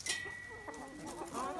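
A chicken clucks softly a few times nearby, with faint bird chirps and a thin background tone, no talking.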